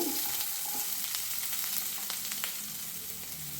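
Chopped onions fry in a pan on medium flame for pulao. A steady, close, hissing sizzle runs evenly throughout, with a few faint crackles and no voices.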